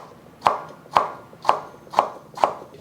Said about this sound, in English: I'm just gonna slice it into slivers. Very thin.